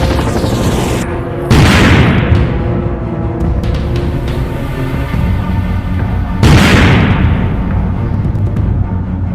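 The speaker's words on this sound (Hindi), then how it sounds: "जी-मैन बहुत ही गुस्सा में होता है और एक ही शॉट में ज़ॉम्बीज़ को मार देता है।" In an animated horror story, heavy gunshots boom twice, several seconds apart, each followed by a long rumbling tail under a droning cinematic score.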